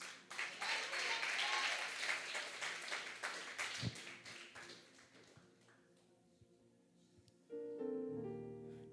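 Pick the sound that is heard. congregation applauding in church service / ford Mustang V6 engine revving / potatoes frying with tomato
congregation applauding in church service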